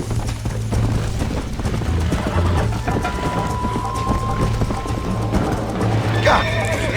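Horse in the video game Red Dead Redemption, with rhythmic hoofbeats clip-clopping throughout and a short whinny near the end, set against a rainy, stormy background with some faint voice.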